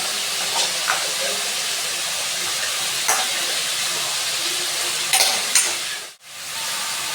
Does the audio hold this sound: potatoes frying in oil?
yes